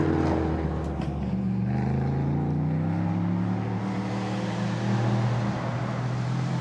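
Stiffly sprung LMP3 prototype race cars circle the Lausitzring circuit, their engines giving a loud, sustained drone with shifting pitch as they accelerate and pass, the roar filling the whole stretch without any talk.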